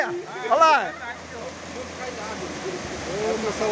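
Heavy rain in Canarana, Bahia, with floodwater rushing in a steady broadband roar; someone speaks Portuguese briefly near the start, then the water noise continues alone and swells toward the end.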